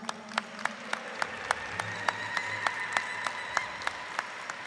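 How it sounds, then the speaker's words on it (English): Scattered, evenly spaced hand claps from an audience at an evening American Indian Heritage Month celebration, honoring the drum groups; moderately close and steady, with no talking. "Can we get an applause for all of them?"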